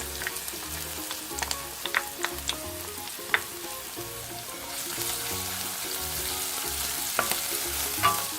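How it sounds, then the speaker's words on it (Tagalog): Garlic fries in a pan for a creamy pasta sauce, giving a steady close sizzle and crackle with occasional light pops and scrapes of stirring. "Pagluto na yung ating bawang"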